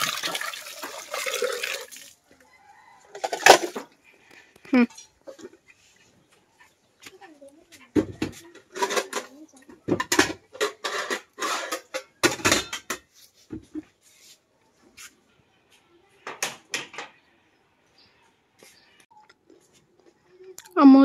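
Dirty dishes, plates and cooking pots are washed after a meal, with clattering metal and ceramic knocks, scraping and splashing water in irregular bursts, while someone talks and a rooster or chicken is heard now and then.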